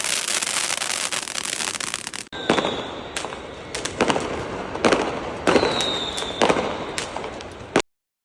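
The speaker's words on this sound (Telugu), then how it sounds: "సో కొన్ని ప్లేసెస్లో అయితే క్రాకర్స్ చాలా బాగా కాలుస్తారు." Diwali fireworks and firecrackers in Dubai, with loud sharp bangs going off one after another amid continuous crackling, some with a brief whistle, before cutting to silence at the end.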